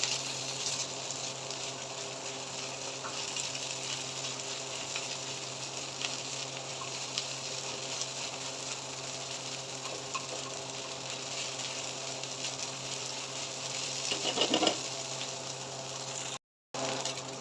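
Garlic-ginger paste sizzles and fries in a pan during Peshawari-style tawa mutton kaleji cooking, a steady hiss with soft stirring scrapes, continuous and fairly quiet throughout.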